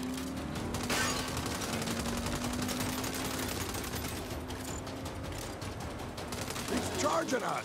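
Sustained automatic gunfire in Saints Row (2022) hammers on in rapid overlapping bursts, loud and continuous, while a player shouts briefly over the shooting near the start.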